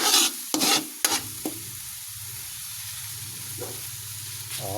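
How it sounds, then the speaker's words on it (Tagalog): Eggs frying in a pan for an Ilocano poqui-poqui dish, with a few sharp tossing and knocking strokes at the start, then a steady, close sizzle carrying on alone. "Taktak natin para sinisigurado ko pong maluto yung itlog para hindi malansa"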